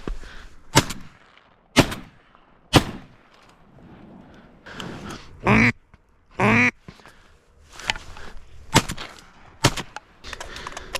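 Shotgun blasts ring out on an early-morning duck hunt: several sharp, loud reports at uneven intervals, with duck quacks in between and little talking.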